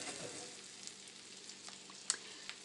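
Pork chops fry in a pan over medium heat, giving a soft, even sizzle with a few faint pops and light clicks, heard close up and without voices.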